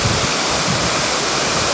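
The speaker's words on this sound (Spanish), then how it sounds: "esta cascada de la que vienes ahorita se llama Cascada el Mosquito" Waterfall at Cascada el Mosquito in Tejutepeque, Cabañas, El Salvador, a steady, loud, broadband roar of falling water that continues unbroken throughout, with no voices.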